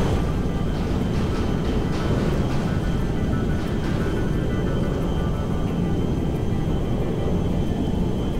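A US military C-5M Galaxy transport aircraft flying in GTA 5 gives a steady, loud, broadband engine drone that holds constant and close throughout, with no talking.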